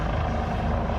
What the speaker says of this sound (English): It's a news copter